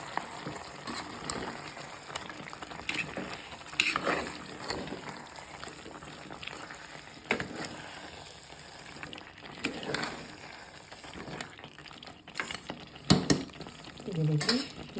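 Masala frying in a pan for a country chicken curry, stirred vigorously with a spoon, giving a steady sizzle broken by irregular scraping and stirring bursts, close up with no speech.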